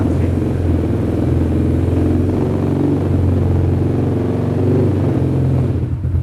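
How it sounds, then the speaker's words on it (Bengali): An ATV quad sports bike engine accelerates with a steady, loud, low rumbling drone that holds continuously and close by, with no talking over it. "এটা হলো অ্যাক্সেলেশন"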